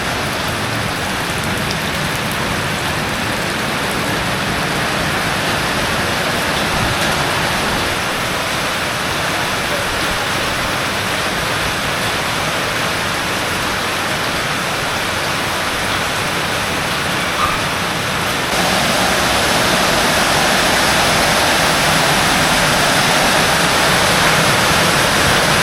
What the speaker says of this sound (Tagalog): Ulan na naman. Hinto, ulan.